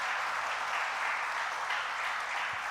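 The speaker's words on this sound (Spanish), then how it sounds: "¿Le puede dar usted un aplauso al Señor?" Church congregation applauding, a steady dense wash of many hands clapping at a moderate distance, continuous for the whole stretch with no talk over it.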